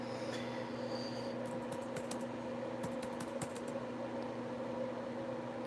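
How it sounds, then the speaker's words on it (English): Loud clicking of a computer keyboard as someone types, irregular clusters of sharp keystrokes close to the mic over a steady background hum, no talking. "My keyboard's loud so you can hear it."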